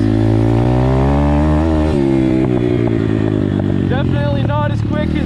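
A custom Apollo RFZ pit bike with a swapped 150cc engine is ridden, its loud, close engine droning steadily with pitch rising and falling as it revs, and clattering, scraping noise toward the end.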